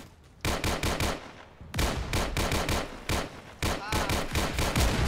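Rapid bursts of automatic gunfire from a Vietnam War-era Roblox shooter, Unit 1968: Vietnam, crackling in loud repeated volleys with brief pauses between them.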